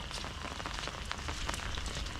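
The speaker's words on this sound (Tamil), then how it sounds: "இப்போ இவ்வளோ மழை பெய்யும்னு நினைக்கவே இல்லை" Heavy rain pours down steadily at a house, a dense, even hiss of drops striking surfaces close by, with no voices.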